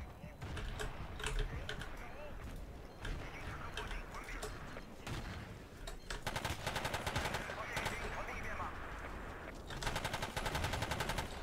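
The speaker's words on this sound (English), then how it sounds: "Grenade spam incoming." Battlefield 2 online match on Wake Island, with rapid, dense bursts of gunfire and grenade explosions crackling close and loud throughout, building into heavier volleys in the second half.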